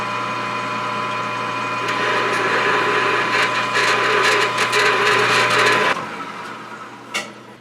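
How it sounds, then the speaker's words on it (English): A large drill bit boring out a 37/64-inch hole in metal for a bandsaw mill blade guide roller part, a steady loud grinding whir under a constant motor hum that drops off near the end. "So I'll drill this out to that."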